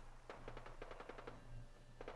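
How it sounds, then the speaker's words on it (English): Bursts of distant Fallout 4 gunfire crackle in quick clusters over a low hum, faint and somewhat far off. "Oh, I hear gunfire."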